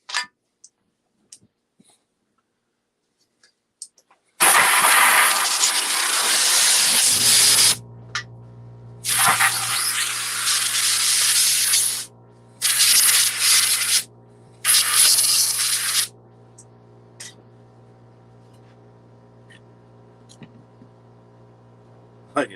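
Compressed air blasts from an air hose in a workshop where saws are being worked on, loud roaring bursts of hiss in several separate pulses, with a steady low hum continuing between them.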